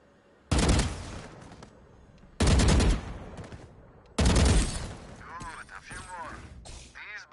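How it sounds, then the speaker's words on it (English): Gunfire at practice bots in the game Valorant comes in three loud bursts, each a few seconds long, close up. Electronic chirps and quieter game noise fill the gaps between bursts. "move to face each bot, then stop and shoot while standing still"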